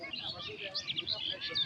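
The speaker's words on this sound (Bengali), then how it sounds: "অনেক পাখির কোলাহল, উপরে অনেক পাখি, মেঘলা আকাশ।" Many birds chirp and twitter outdoors under a cloudy sky near Satarkul, Dhaka, a busy cluster of short, fairly faint high calls overlapping throughout.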